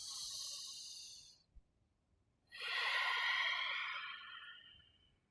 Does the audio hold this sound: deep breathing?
yes